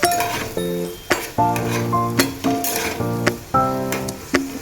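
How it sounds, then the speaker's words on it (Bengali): Potato and bitter gourd fry with a continuous sizzle under repeated spatula scrapes and clinks against a pan, coming in a steady, uneven rhythm close up. "আলু উচ্ছেটা ভাজা করছি"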